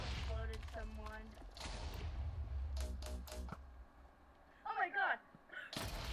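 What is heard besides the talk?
explosions in the MCC Island Minecraft video game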